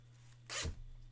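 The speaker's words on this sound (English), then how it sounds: "I like the sound a plastic zip makes" A plastic clothing zipper is pulled in one quick, close stroke, a short bright rasp over a quiet background hum.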